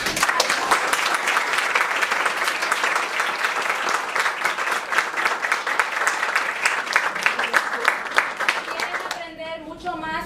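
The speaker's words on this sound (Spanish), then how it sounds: "Vamos a dar un fuerte aplauso." A crowd applauds loudly and steadily, dense clapping filling the whole stretch before it thins out near the end.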